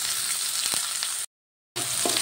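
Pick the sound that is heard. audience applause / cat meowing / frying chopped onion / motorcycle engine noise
frying chopped onion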